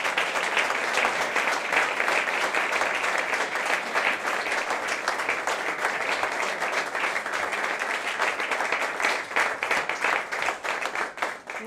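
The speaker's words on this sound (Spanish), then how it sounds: "para quien pido un fuerte aplauso" Large audience at a presidential award ceremony gives sustained, dense applause, a loud continuous roar of many hands clapping from start to finish, no speech over it.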